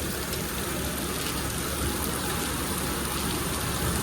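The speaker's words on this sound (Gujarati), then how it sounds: "વરસાદ ચાલુ છે એટલા માટે." Steady, dense rain hiss in Morbi, Gujarat, fills the clip without a break, an even wash of falling water with no voices.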